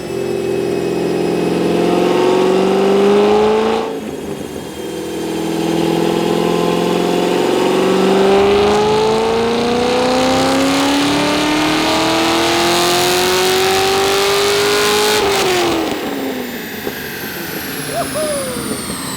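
A straight-piped Corvette V8 revs hard on a dyno, its loud exhaust rising in long pulls, dropping off between runs, and sweeping up again in sustained, raspy bursts.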